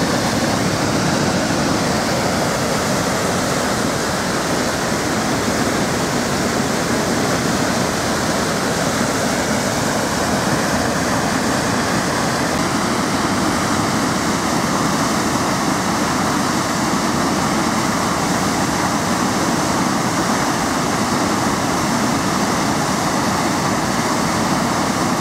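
Water rushing over the 4 Mile Dam on the Thunder Bay River in Michigan, a loud, steady broadband roar of falling, foaming water that continues unbroken throughout.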